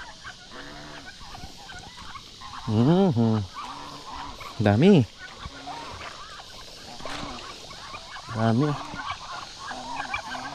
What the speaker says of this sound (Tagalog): Uy, 5 na pala yung pabo.